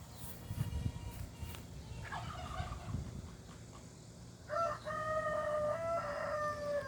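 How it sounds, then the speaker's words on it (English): Chickens call out nearby, with a rooster crowing in a long rising cry and a few shorter squawks, against quiet outdoor background noise. "I guess the chickens are doing their daily call."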